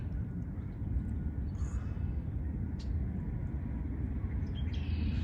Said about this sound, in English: these are the resident birds here at City Park